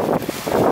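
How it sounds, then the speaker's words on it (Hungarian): Wind gusts outdoors by a door being shut, a steady broadband rush that swells and eases over less than a second, with no voices. "Fúj a szél."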